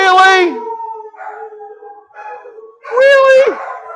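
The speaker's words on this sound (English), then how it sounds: "those are dogs. There are so many of them. They're howling now." A pack of many dogs howls loudly in two strong bursts, long rising and falling wails with quieter howls trailing between them, at close range and without talk.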